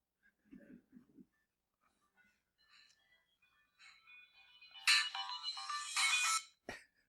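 A mobile phone ringtone goes off during a church sermon, a bright electronic melody that starts faint and swells loud, with brief quiet speech before it.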